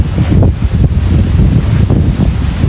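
Strong wind and rain lashing an outdoor fishpond area, a loud, close, gusting rumble of wind buffeting the microphone with rushing noise throughout.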